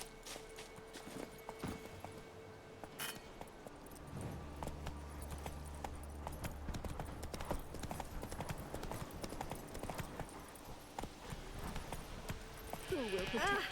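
Roach, a horse in The Witcher 3 video game, clip-clops along in a steady trotting rhythm under game music and ambience, with voices talking over it.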